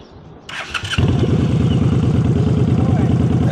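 A motorcycle engine starting and then held on a loaded throttle at slow speed during a riding-skills practice session, a loud, close, steady rumbling pulse after a brief rise.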